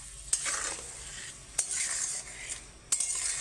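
A utensil stirs spice paste in a cooking pan, scraping in a few distinct strokes over a soft continuous sizzle, close and fairly quiet with no talking.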